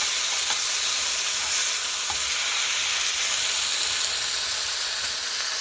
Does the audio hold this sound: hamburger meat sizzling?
yes